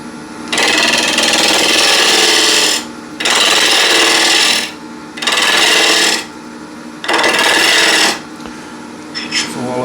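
A bowl gouge cuts a spinning wooden bowl on a lathe in four long, steady passes of harsh, scraping hiss, each about two seconds, separated by short pauses; close and loud, with no talking.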